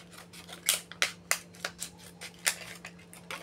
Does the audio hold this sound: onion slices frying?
no